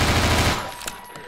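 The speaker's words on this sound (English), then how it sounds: "Where are they shooting from?" Rapid automatic gunfire in the video game Half-Life 2 on the Highway 17 level, a loud dense burst for about half a second, then sparser distant shots trailing off with no talk.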